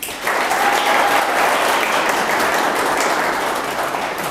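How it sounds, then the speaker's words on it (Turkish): A group at a New Year's event bursts into steady, close applause that holds evenly for several seconds after a brief pause. "bir alkışlayabilir miyiz?"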